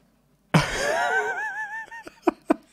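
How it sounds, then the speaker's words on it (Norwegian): A pet cat meows for attention, giving one loud, drawn-out wavering cry from close by. Two short, sharp sounds follow it. "katten min prøvde nettopp å få oppmerksomhet"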